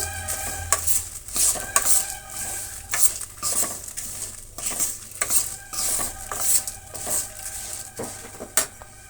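Chana dal and urad dal frying in a pan for curry leaf chutney, with repeated metal scraping and clinking of a spatula against the pan over a steady background, no talking.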